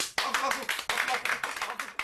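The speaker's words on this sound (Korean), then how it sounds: "우리 다 같이 박수 한번 치자." A group claps hands together in a quick burst of sharp, overlapping claps, close and fairly loud, with voices mixed in.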